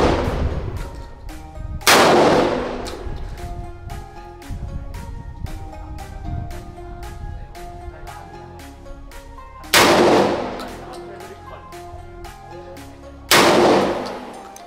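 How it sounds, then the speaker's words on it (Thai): Shotgun firing 00 buckshot at a small steel plate 50 m away outdoors: three loud, booming blasts spaced several seconds apart, with a run of sharp ticks and clicks in between. "เริ่มต้นเรามาลองยิงที่ระยะ50เมตร"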